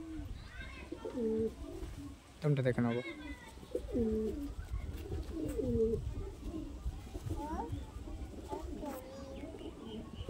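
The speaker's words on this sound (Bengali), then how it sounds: "এটা হচ্ছে মাদি পায়রা" A female pigeon coos over and over in a close, soft, throaty warble while someone talks quietly.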